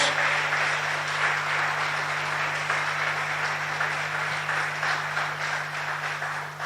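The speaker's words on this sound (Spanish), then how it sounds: "Dele un aplauso a Dios." A church congregation applauds during a Spanish-language sermon on the victory of the cross, with broad, continuous clapping from many people over a steady low electrical hum.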